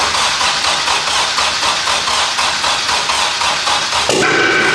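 A Honda K24 engine in a Civic race car cranks on its first start attempt, a loud starter churning with rapid even pulses that changes abruptly near the end into a rougher, louder roar.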